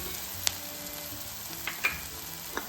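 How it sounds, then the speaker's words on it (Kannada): Moth bean curry ingredients frying in oil, a soft steady sizzle close by with a few brief stirring clicks and taps, no talking. "ಈ ಥರ ಎಣ್ಣೆ ಒಳಗನ್ನ ಇದನ್ನೆಲ್ಲನೂ ಫ್ರೈ ಮಾಡ್ಕೋಬೇಕು"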